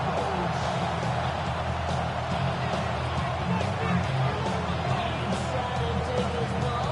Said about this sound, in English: Not quite the same roar out of the crowd, Kate, that you're going to get with a touch